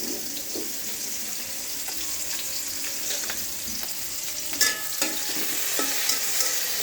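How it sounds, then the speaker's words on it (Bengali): Hilsa fish frying in a frying pan, a steady soft sizzle running throughout with a few brief clinks and stirring knocks near the end, no voices. "মাছগুলো ভাজা করছি, আর এদিকে এই সাইডে কড়াইয়ের মাঝে তরকারিটাও বসিয়ে দিচ্ছি"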